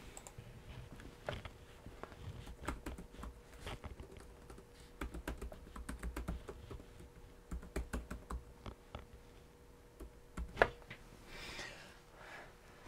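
Steady, quiet typing on a computer keyboard while entering an email address, a run of soft rapid key clicks with small pauses and a few louder taps, alone without talk.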